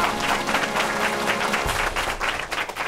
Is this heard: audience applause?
yes